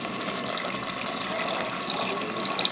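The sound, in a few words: water being poured into a pot of cooking chicken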